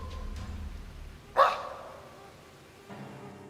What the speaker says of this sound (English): Then one of the most chilling noises is that of a growl or a bark